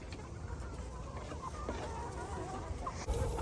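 Farm chickens clucking steadily at close to middle distance, with scattered squawks and a sharp thump near the end, over a busy barnyard background with no clear talk.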